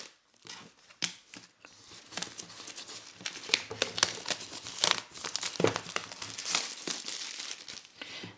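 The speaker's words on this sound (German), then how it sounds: "deswegen als erstes die Folie ab" Plastic shrink wrap torn and peeled off a limited fan box set, close crinkling and crackling with sharp tearing snaps in irregular bursts, no talking.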